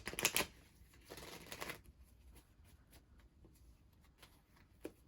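Tarot cards riffle in a few quick shuffles close up, then single cards are pulled in soft, sparse flicks and taps. The room is otherwise quiet.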